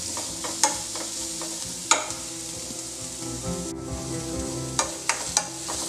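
Salt and vegetables sautéing in a pan for vegetable upma: a constant sizzle under a low hum, with a few distinct spoon clacks against the pan and a brief dip midway.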